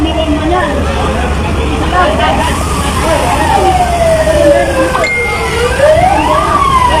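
A fire truck siren at a large fire in Pulilan, Bulacan, Philippines wails up and down in rising and falling sweeps, loud and drawing closer, over steady traffic rumble and street noise.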